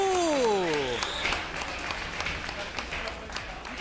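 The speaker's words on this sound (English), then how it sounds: "Round of applause." Crowd applause fills the clip after a 3lb robot combat fight, steady and fairly loud, with a voice speaking over the start.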